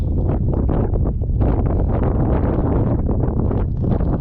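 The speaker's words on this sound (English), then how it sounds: "A little windy now, but not so bad yet." Strong wind gusting over an open lake while someone rides a tube on the water, a loud, steady broadband roar buffeting the microphone with no break for its whole length.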